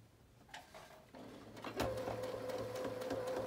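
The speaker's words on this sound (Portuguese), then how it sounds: "costurar todas as camadas e fazendo o pontinho reto, de fora a fora" Sewing machine running a straight stitch through several fabric layers of a brush holder, starting with a few clicks and then a steady close mechanical whir that builds and keeps going, with no talking.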